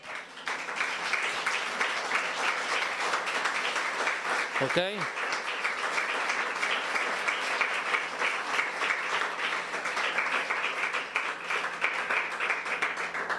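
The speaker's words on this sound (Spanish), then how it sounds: "Dale un aplauso al Señor" A church congregation in Chiautla, Mexico, applauds the Lord with sustained, lively clapping that runs steadily for over ten seconds, broken once by a brief vocal sound near the middle.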